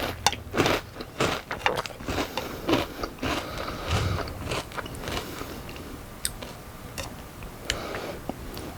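Someone chews crunchy Captain Crunch cereal close up, with irregular sharp crunches and clicks spread across the stretch, some louder bites among quieter grinding, no speech.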